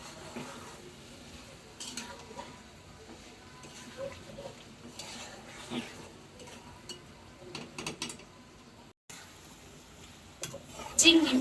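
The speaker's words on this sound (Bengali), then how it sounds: "চিংড়ি মাছ আর আলুটা আমি কিছুক্ষণ কষাই নিব।" Shrimp and potatoes frying in a pan, with soft sizzling and occasional stirring scrapes at close range, fairly quiet, and a brief pause near the end before louder clatter.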